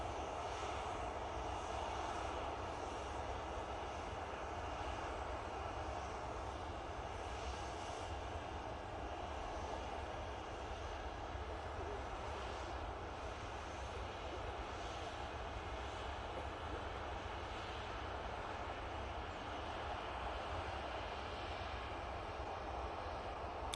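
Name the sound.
Finnair Embraer E190 airliner arriving at Manchester Airport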